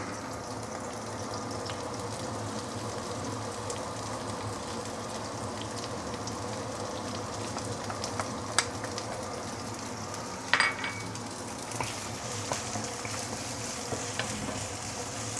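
Egg and chopped ingredients fry in oil in a wok for an Osmanthus egg dish, giving a steady soft sizzle throughout, with a few brief clinks and scrapes of stirring near the middle and no talking.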